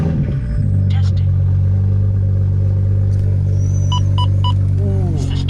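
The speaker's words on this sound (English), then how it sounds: "The VRSF race exhaust sounds so good." Deep, steady idle rumble of a BMW E90 335i with the N54 engine and a VRSF race exhaust, loud and close throughout, with a few brief faint chirps and a short voice over it.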